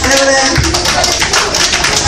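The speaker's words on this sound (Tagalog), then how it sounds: "Palakpak." Hand clapping at a church gathering in Tondo, Manila, heard as a dense run of claps over background voices and ambient noise, fairly loud and close for a couple of seconds.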